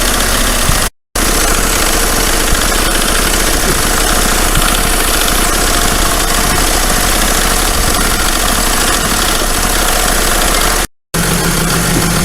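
A diesel engine idles steadily through a Wynn's diesel injector cleaning treatment, a loud, continuous low rumble with a knocking vibration that runs without talk and cuts out twice for a moment.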